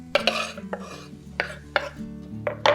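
Aromatics tip into a pan of hot oil and are moved about, sharp clatters and scrapes of utensil on pan recurring every half second or so over a low background hum.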